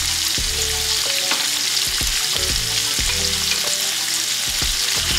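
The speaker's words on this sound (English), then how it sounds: "I'm gonna let this just cook on high heat" Salmon sears in a hot pan on high heat, a loud continuous sizzle and crackle with repeated scraping strokes of a utensil against the pan.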